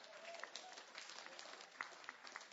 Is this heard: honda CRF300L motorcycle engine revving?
no